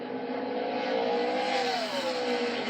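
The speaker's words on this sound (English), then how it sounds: "He's in the throttle as hard as he can be" A NASCAR stock car roars at full throttle during qualifying at Kansas, a loud, sustained engine drone with a slight pitch drop midway as it carries speed into a turn.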